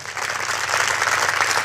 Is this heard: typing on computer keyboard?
no